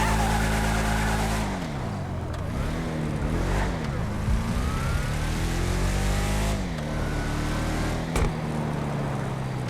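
A muscle car in GTA Online on a test drive, its engine droning low and loud, revving up and dropping back through several gear shifts with rising and falling pitch, no talking.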